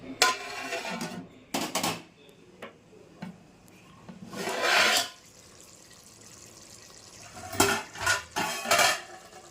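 A lid set down on a pot of chicken biryani, with clattering pot and utensil sounds in a couple of close bursts amid quiet kitchen background.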